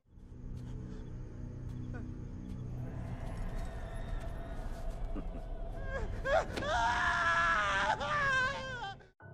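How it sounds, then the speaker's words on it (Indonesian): Cannibal mutants scream and wail in the horror film Wrong Turn 3. Strained, rising cries build over a low rumbling background and are loudest and most piercing near the end. "terdengar suara teriakan para mutan kanibal yang menangis melihat anaknya telah tewas"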